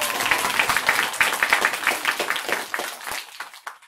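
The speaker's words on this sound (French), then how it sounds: "Applaudissez" A studio audience at a live science theatre show applauds steadily, a loud mass of claps that gradually thins into a few scattered claps near the end.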